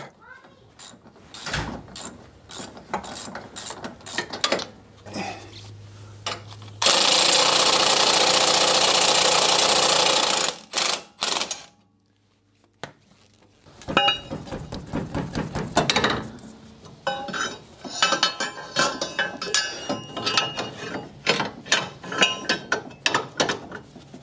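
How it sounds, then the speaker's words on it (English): A ratchet clicks in short bursts while a stabilizer bar is unbolted from a Jeep fitted with a Metalcloak Hi-Steer kit, with a loud hissing burst in the middle and more rapid ratcheting and metal clatter afterward. "So we're going to remove the stabilizer bar."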